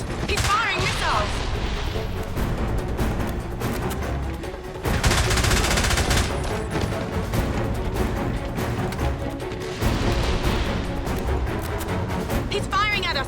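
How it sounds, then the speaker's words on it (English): Heavy gunfire and explosive blasts during a boat chase in the James Bond 007: Blood Stone game, Siberia stage, as an enemy fires missiles; loud sustained bursts and impacts with brief voices over the action. "James, he's firing missiles."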